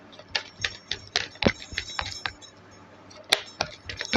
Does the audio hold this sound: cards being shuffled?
yes